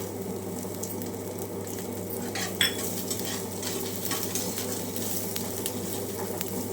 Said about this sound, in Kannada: ಚೆನ್ನಾಗಿ ಫ್ರೈ ಮಾಡ್ಕೋಬೇಕು ಸಣ್ಣ ಉರಿಯಲ್ಲಿ